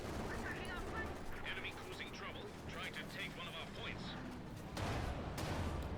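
Tank shells striking a Panzer IV in the Company of Heroes 2 strategy game, heard as a continuous rumble of distant gunfire and impacts, with a louder burst near the end.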